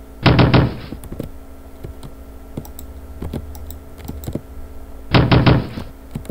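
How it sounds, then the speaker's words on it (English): Knocking on a locked door in the video game Ding Dong Ditch: two loud bursts of rapid knocks, one at the start and one near the end, with faint clicks and taps scattered between. "for locked doors, right clicking on them makes you knock at them"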